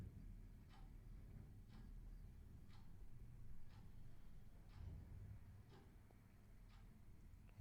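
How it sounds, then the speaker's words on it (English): A clock ticks faintly in a quiet room, about one tick per second in an even rhythm over a low background hum. "there's the ticking of the clock"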